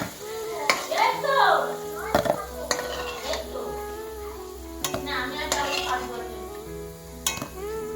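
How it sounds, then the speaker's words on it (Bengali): Potatoes frying in oil in a pan, with a steady sizzle broken by repeated sharp clinks and scrapes of a utensil stirring against the pan, close and moderately loud. "আলুটা ভাজা হয়ে গেছে, লাল লাল করে এবার তুলে নিব।"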